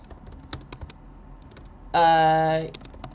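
A short, dense burst of computer keyboard typing comes between scattered single key clicks, and a loud sustained electronic tone briefly masks it. The sound is close and clear.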